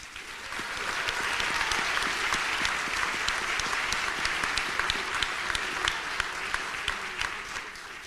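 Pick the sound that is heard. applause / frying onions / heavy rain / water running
applause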